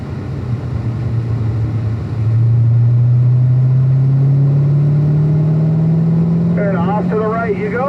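A car accelerates along a race track at Spring Mountain Motorsports Resort, its engine note climbing steadily in a loud, close drone, with a voice talking over it near the end.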